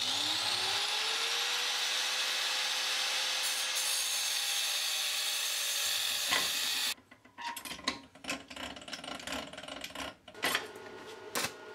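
Metal strapping being cut off for a homemade vegetable oil heater: a long steady sawing or grinding rasp with a faint whine, followed by a series of irregular scraping and clanking handling sounds, close and without speech.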